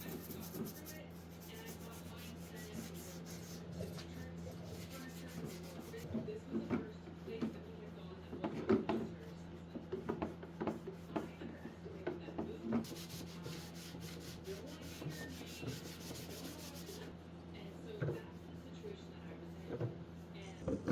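Scrubbing and wiping across a wooden accent table, repeated rubbing strokes of varying pressure with occasional bumps, fairly quiet, over a steady low background hum.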